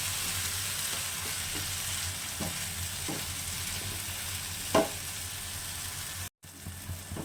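Mashed green banana peel with green chillies frying in a pan, a soft continuous sizzle broken by occasional scraping strokes of a spatula, with one sharper scrape near the end and a brief dropout.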